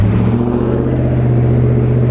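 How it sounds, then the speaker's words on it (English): A loud pickup truck revving as it goes by, a steady deep engine rumble close at hand, continuous and unbroken for the whole moment with no voices. "loud pickup truck."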